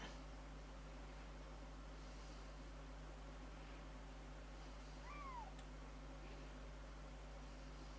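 A lynx caller in TheHunter Classic sounds two short rising-and-falling squeals near the middle of a quiet stretch over a steady low electrical hum, with no voices.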